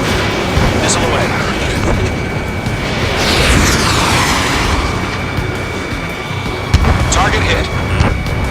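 Combat flight video game action: a missile launches with a rising whoosh and roar, followed by booming blasts and cockpit warning tones, loud and dense with game voice callouts running over it.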